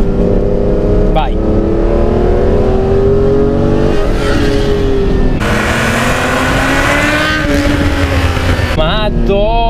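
A Ferrari Testarossa engine revs hard while driving, its pitch climbing and falling through gear changes in a loud, close, throaty drone, with people talking excitedly over it.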